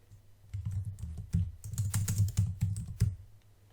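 Computer keyboard typing while entering a word in Inkscape graphic design software: a fast run of close, crisp key clicks in uneven bursts, with short pauses between groups.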